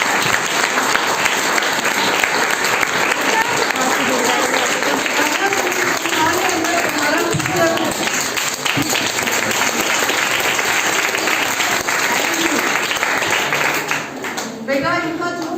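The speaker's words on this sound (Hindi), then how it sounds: "उस विशेष के लिए तालियां बजाओ।" An audience applauds steadily and loudly at a motivational talk, the dense clapping sustained throughout before thinning slightly at the end.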